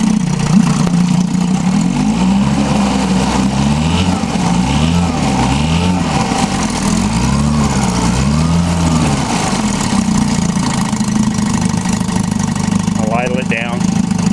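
A 1958 Johnson 5.5 hp outboard motor runs steadily in gear, its loud, continuous drone rising and falling in a rhythmic wavering pattern, with a brief chirp near the end.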